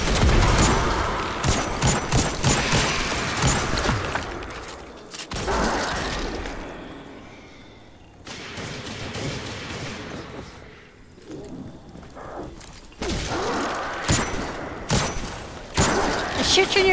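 Bursts of gunfire ring out in the Destiny 2 video game, rapid volleys in loud clusters separated by brief lulls, with some quieter mechanical game sounds between.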